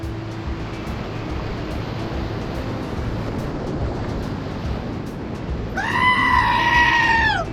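A loud, drawn-out human-like screaming goat sound effect near the end, cutting over steady rushing water noise of a creek rapid while canoeing.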